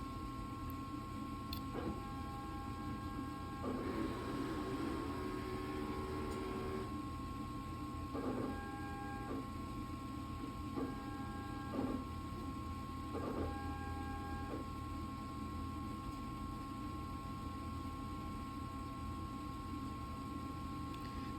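An inkjet printer cleans its print heads with a steady mechanical whir under background hum, broken by several short bursts of motor activity and clicking as the heads are serviced, with no talking.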